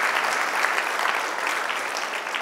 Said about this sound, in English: And so give yourselves a round of applause.